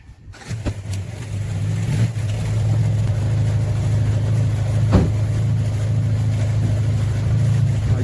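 Skoda car engine in poor condition, running with a rough, steady low drone and rising and falling as it revs, heard up close with no talking.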